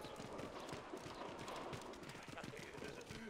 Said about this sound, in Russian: Нихера себе, там конь строптивый.